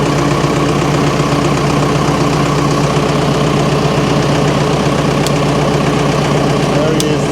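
A SAME tractor engine drones loudly and steadily while driving its rebuilt PTO gearbox under test, a constant close rumble with two faint clicks near the end.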